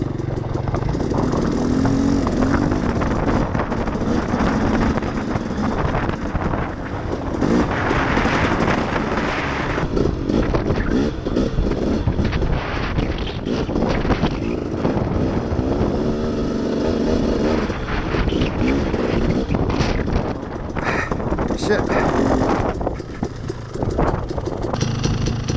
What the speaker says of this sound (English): Starting to get some wind.